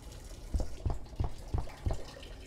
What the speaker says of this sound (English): Dude, you're peeing so loud.